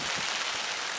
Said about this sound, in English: the rain's actually coming on the camera now as well